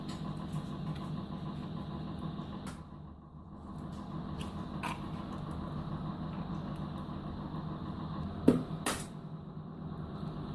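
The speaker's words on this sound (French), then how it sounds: "c'est mon four qui fonctionne parce que j'ai une autre préparation en route." A steady low mechanical hum from a kitchen oven running drones throughout, with a few faint clicks and a brief sharp knock near the end.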